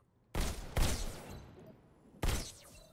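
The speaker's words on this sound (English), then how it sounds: "Now you're armed. Just squeeze the trigger to shoot." Pistol shots from the Robo Recall VR game ring out as three loud, sharp bangs with echoing tails, the first two close together and the third after a pause.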